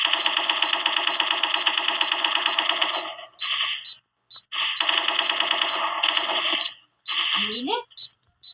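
Rapid, sustained automatic gunfire in dense bursts, loud and close, with short gaps between volleys and a brief rising electronic whine near the end.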